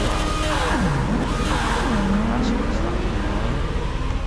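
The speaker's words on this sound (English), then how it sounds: "Let's hear him rev and burn out." A V6 car in Forza 6 revs up and down through a couple of rising and falling engine sweeps with a burnout, mixed under ongoing voices talking over it.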